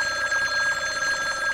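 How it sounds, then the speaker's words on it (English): A telephone bell rings steadily and loudly throughout, a fast, continuous trill heard on its own with no voices. "Will someone please answer the phone?"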